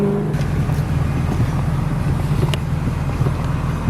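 An S197 Ford Mustang engine rumbles steadily at a low, loud idle-to-cruise drone throughout, with no voices over it.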